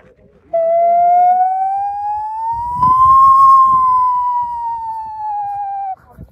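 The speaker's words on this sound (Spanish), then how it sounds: "este es un cráneo teotihuacano, ¿sí? Elaborado en barro, pulido totalmente a mano. Este sonidito emana un sonido como la llorona." A pre-Hispanic Teotihuacan skull whistle of hand-polished clay gives one long, loud wailing tone like La Llorona, rising slightly then falling, held for about five seconds, with faint rustling beneath.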